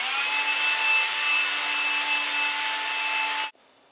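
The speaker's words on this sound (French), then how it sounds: "Je dois passer l'aspirateur." A household vacuum cleaner runs steadily at close range with a loud, even whine, then cuts off abruptly near the end, leaving faint room noise.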